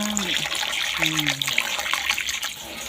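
Fresh wolffia (khai pham) being rinsed by hand in a basin of water, with steady close splashing and trickling, and a voice talking over it in places.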